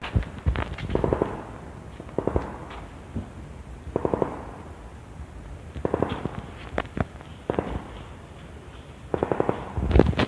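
Bursts of rapid gunfire from Russian forces pop in clusters at a moderate distance in Ukraine, separated by brief pauses, with scattered single shots in between.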